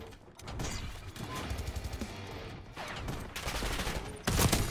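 Rapid bursts of shotgun fire in Black Ops 6 multiplayer, loud and repeated, with a final heavy blast near the end, no talk over it.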